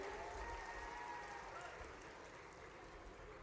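Audience applause at a public rally in Khargone for MP Gajendra Singh, a steady wash of many hands clapping at moderate distance, fairly quiet and lasting throughout, with faint voices mixed into the crowd noise.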